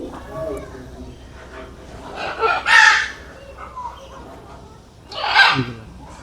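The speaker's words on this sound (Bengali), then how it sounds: "এই পাখিগুলো আমি কথা না বলি জাস্ট পাখিগুলোর ডাকগুলো একটু" Birds in a safari park aviary give two loud, harsh, screeching calls, the first near the middle and the second near the end, over a steady murmur of softer chirps and faint background voices.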